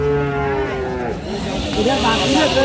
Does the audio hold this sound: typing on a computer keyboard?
no